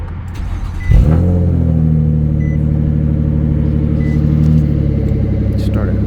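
A car engine cranks briefly and then catches, settling into a steady, loud idle rumble close by. The car has just had its cold air intake cleaned.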